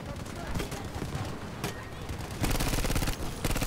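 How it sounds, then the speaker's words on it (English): Suppressive gunfire in the Battlefield V video game, dense rapid automatic bursts that grow louder and more continuous partway through, mixed with voices talking over the shooting. "suppressive fire"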